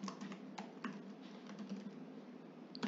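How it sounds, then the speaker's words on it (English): Quick, light clicking of keys on a computer keyboard as text is typed, an irregular patter of close, quiet taps against a faint background hum, with no voices. "So I'm going to type out happy birthday,"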